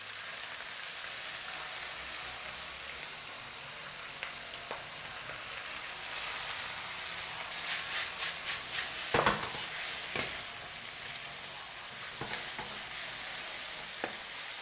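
Bean sprouts and rice noodles stir-fried for char koay teow crackle and sizzle steadily in a hot pan, with a burst of scraping spatula strokes partway through, close and without talk.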